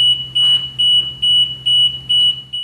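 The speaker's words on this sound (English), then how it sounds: "as well as backup alarms" A PACK MULE burden carrier's backup alarm beeps steadily, six loud, evenly spaced electronic tones with short gaps between them, clear and close with nothing else heard.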